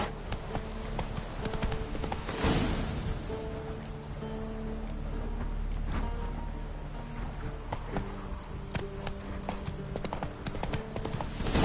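The horse Roach trots in the video game Witcher 3, its hooves clip-clopping in a steady rhythm. Ambient patter that sounds like rain runs beneath the steps.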